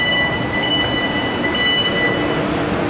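A South Western Railway train runs along the Reading and Windsor lines with a loud, continuous rumble and a faint high whine, heard from on board or close by with no talk.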